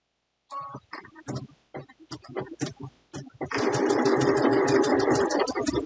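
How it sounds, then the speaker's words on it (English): A sewing machine runs steady and close for machine appliqué stitching, starting after a series of short stop-start bursts, then holding a continuous whirring drone to the end. "I'm trying to keep a little shade there, but I can't see where I'm sewing."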